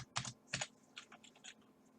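Quick, close clicks of keys on a computer keyboard, a couple of firm taps followed by a lighter burst of typing, quiet overall with no speech.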